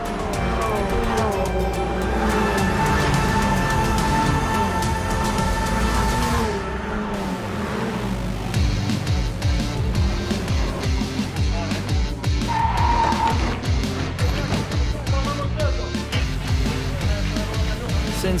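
Fun Cup race cars at the Spa 25 hours with about 120 cars on the grid, engines roaring loudly and continuously with tire squeal and skidding mixed in, cars passing close throughout, with a brief high whine near the end.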